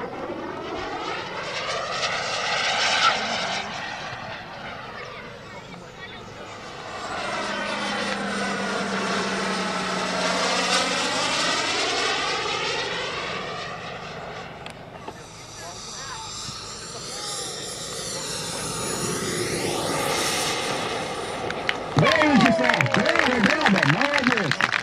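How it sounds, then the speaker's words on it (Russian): A jet aircraft performs aerobatic figures at an air show, its engine roar swelling and fading with repeated Doppler sweeps as it passes, loud and continuous, while an announcer's voice talks over it. "Это реактивный самолет. На нем выполнять такие фигуры очень сложно."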